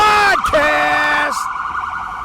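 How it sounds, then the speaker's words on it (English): An ambulance siren wails close by on a New York City street in Times Square, sweeping pitch sharply twice and then continuing as a fading, pulsing wail. "It's one of those Jewish ambulances, by the way."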